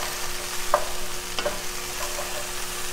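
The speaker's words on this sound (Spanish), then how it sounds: "Y vamos a sofreír por aproximadamente 2 minutos más" Whole garlic and four chiles sautéing in a pan, giving a soft, steady sizzle close by with a couple of faint utensil taps, no voices.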